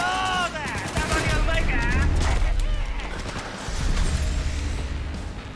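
Rifle gunfire in Cyberpunk 2077, a volley of rapid shots and impacts at close range, with someone talking over the shooting.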